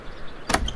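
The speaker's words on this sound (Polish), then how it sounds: "otworzyły się drzwi domu" A house door opens with a short sliding scrape and soft knock near the end of a quiet moment, close and brief.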